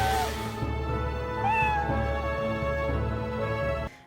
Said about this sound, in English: Wenlock gets turned into a cat